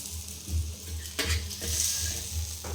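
Fish pieces frying in oil in a pan, a loud close sizzle with low bubbling pulses and a few metallic clinks and scrapes of a utensil against the pan.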